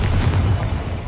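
Bombarda spell explosion in Hogwarts Legacy: a single loud, deep boom with a rumbling tail that fades over about a second.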